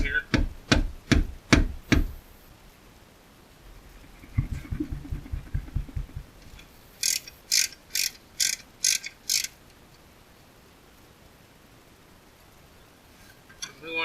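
A ratchet works a 12mm bracket bolt on a Toyota FJ Cruiser brake caliper, sounding as several bursts of quick, close clicking separated by pauses, with some quieter mechanical rattles between them.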